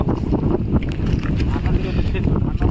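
Strong gusting wind buffets the microphone with a steady low roar during a fishing outing on the water in stormy weather, with a voice speaking over it.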